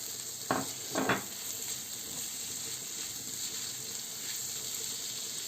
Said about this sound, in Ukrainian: Смажимо гриби